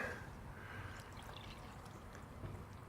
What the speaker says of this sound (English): I'll go ahead and pour that into my mixing container.